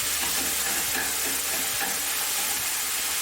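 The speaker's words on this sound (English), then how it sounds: "I like to put my white wine in first and let it reduce just a little bit" White wine reduces in a pan alongside beef tenderloin medallions, giving a loud, steady sizzle and hiss with faint stirring scrapes.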